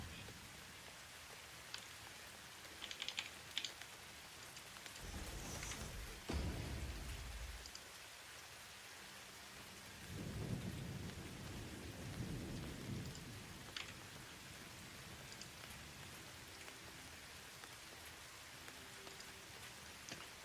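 Rain patters steadily in the video game Satisfactory while a deep rumble of thunder swells twice, first mid-way and again later, rolling low under the constant downpour.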